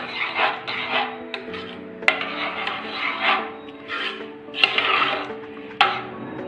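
Sweet pongal with jaggery is stirred in a pot, giving repeated rasping scrapes of a spoon against the pot in an uneven rhythm, close and moderately loud, with a few sharper knocks between strokes.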